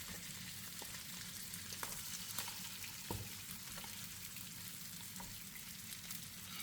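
Steak sizzles in butter and oil in a pan, a continuous quiet frying hiss with occasional small pops and taps close by, and no talk.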